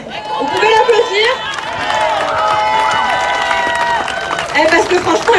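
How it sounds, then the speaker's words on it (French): Crowd at an outdoor French protest rally applauds and cheers to welcome a young speaker, a loud mix of clapping, shouting voices and whistle-like tones blending into a continuous roar for several seconds. "Vous pouvez l'applaudir."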